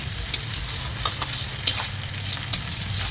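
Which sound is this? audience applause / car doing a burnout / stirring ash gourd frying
stirring ash gourd frying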